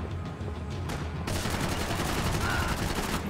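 Rapid gunfire from the video game Max Payne 3, dense bursts of shots that erupt loud after a quieter opening and keep crackling through the rest.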